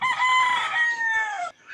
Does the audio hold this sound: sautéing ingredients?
no